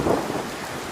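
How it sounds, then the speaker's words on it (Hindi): Heavy rain pours steadily with thunder rumbling through it, loud and close, in an animated tale about a little bird whose nest is washed away in a storm. "पता नहीं ये बारिश कब रुकेगी"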